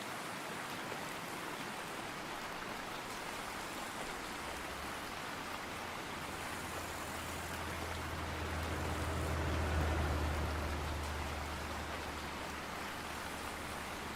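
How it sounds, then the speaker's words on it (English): Steady rain falling in the trucking game Euro Truck Simulator 2, set on a Turkmenistan route of The Great Steppe map, a constant broadband hiss with a low engine drone that swells briefly near the middle, no talking. "Wow, look at that rain."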